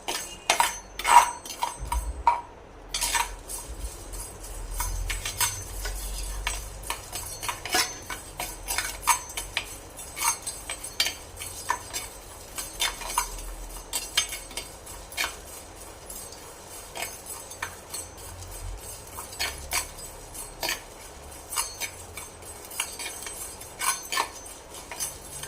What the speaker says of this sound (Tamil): இப்போ நம்ம அதை எல்லாத்தையும் சேர்த்து ட்ரை ரோஸ்ட் பண்ணிக்கணும்.